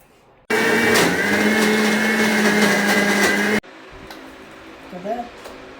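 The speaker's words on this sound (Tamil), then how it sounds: "நல்லா நீங்கள் மிக்சியில் போட்டு இந்த கொஞ்சம் வெண்ணையாக அரைச்சிங்கன்னா" A mixer grinder whirs loudly and steadily for about three seconds while grinding soaked tamarind into a smooth paste, then cuts off abruptly, leaving a quieter room where someone speaks.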